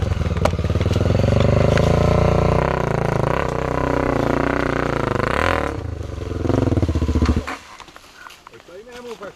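A dirt bike motorcycle engine drones loudly as it climbs a hill, holding a steady strained pitch before dropping away near the end; people talk over it.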